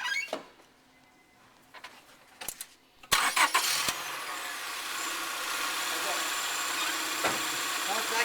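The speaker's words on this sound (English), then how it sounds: "All you do now is start the engine." A car engine cranks and catches after a few quiet clicks and taps, then settles into a steady, close idle that continues to the end.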